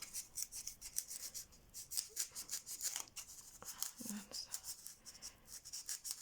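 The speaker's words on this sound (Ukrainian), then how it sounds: "роблю проріз. Проріз, так як в іграшках, в яйцях, на таку саму глибину провалюється ніж." Knife cutting a slit partway into polystyrene foam for an egg-shaped craft form, giving faint, close scraping and rasping strokes in a steady rough rhythm with no talking.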